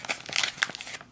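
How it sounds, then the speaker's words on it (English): The zip top of an MRE ration pouch tears open in a quick, close crinkling rip lasting about a second. "Just rip off the top, tear open the zip top"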